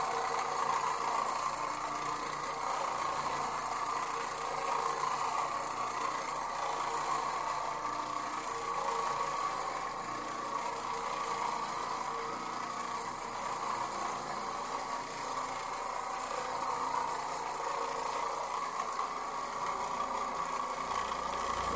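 An Oreck Orbiter floor machine with a microfiber bonnet scrubs a heavily stained carpet, giving off a steady, fairly quiet motor drone and a soft scrubbing hiss that runs unbroken without any talk.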